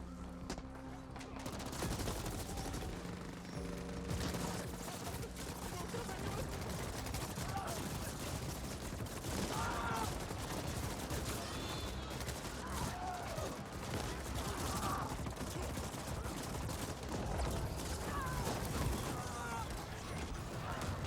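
A minigun fires continuously in the sci-fi shooter The Ascent, a dense, sustained rattle of rapid gunfire with mechanical whirring, while players talk over it.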